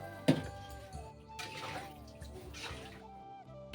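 Water poured while cooking a dried-fish curry, heard as a few close splashes and trickles with ringing tones from a metal vessel, quiet and sporadic over a short stretch.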